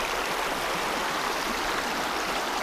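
The Belaya River in Altai flows past in a steady, close rushing wash of water, even and unbroken throughout.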